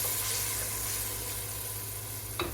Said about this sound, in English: I love the smell of sauteed garlic.